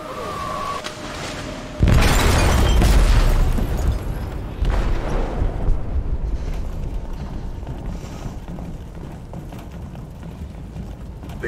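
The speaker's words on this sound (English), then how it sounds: "detonated an explosive in the hold" An explosive detonates in a ship's hold in Detroit: Become Human: a loud, deep boom with a long rumbling roar, then a second blast and a slowly fading mechanical rumble.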